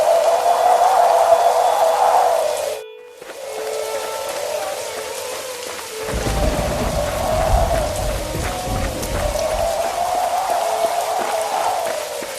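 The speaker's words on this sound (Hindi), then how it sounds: "देखते ही देखते मूसलाधार बारिश शुरू हो गई।" Heavy torrential rain in a cartoon scene, a steady loud hiss of downpour that drops out briefly near the start, then returns and continues with a deeper rumble underneath.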